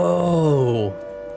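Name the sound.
air raid siren in War of the Worlds video game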